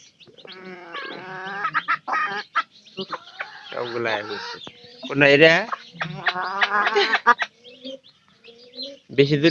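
A small hen with chicks clucks in repeated bursts, near and fairly loud, with brief pauses between calls and other soft bird or chick sounds mixed in.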